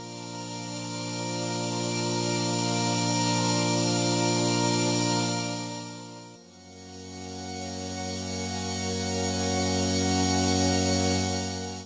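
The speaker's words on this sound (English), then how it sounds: "This is a chorus effect, and it's crazy." Sustained OP-1 synth chord through the Emo Chorus iPad chorus effect app, a steady loud tone whose pitch drops partway through, taking on a wide, moving, organ-like timbre; no talking.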